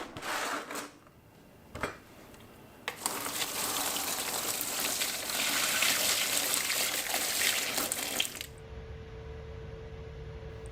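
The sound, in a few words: hot water poured over brazed bike frame joint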